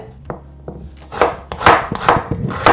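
A knife chops onion finely on a board for an Amharic dried-injera firfir dish, first two light taps and then a steady run of louder, rapid cuts, close and alone.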